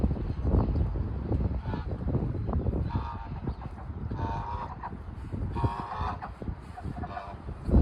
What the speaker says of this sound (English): The goose. That's the goose.